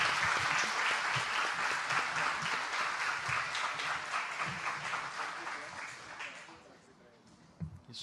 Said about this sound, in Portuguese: Queria pedir mais uma vez à plateia que dessemos um aplauso, salva de palmas para eles